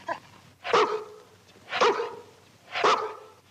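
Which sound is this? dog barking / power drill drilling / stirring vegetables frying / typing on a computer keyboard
dog barking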